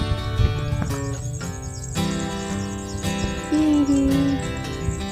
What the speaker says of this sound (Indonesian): Ini suara burung.